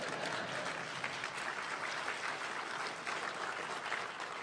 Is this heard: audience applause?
yes